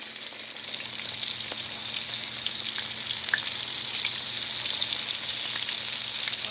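Seasoned catfish nuggets frying in hot oil, giving a loud, continuous, close crackling sizzle with no voices.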